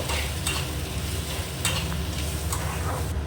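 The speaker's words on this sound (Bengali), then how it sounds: "এখানে আমি পুরটা বানানোর জন্য সরষের তেল দিয়ে আমি পেঁয়াজগুলো ভাজতে দিয়েছি" Onions fry in mustard oil for a paratha filling, a continuous close sizzle with a few sharp scrapes of a spoon stirring the pan.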